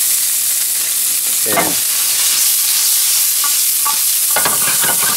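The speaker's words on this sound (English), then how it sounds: "gonna give them a quick saute, about 2 minutes" Corn sautés in chili oil in a pan with a steady, loud sizzle throughout, while a utensil scrapes and stirs in several short strokes and a brief spoken word comes through.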